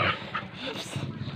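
A dog at a beach resort, freshly dried after a bath, makes short whimpering and panting sounds close by, partly buried under people talking.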